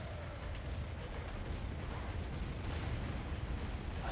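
Nuke explosions in the Killing Floor 2 video game roll together into a continuous, dense, rumbling roar of blasts, loud and sustained throughout with no pauses.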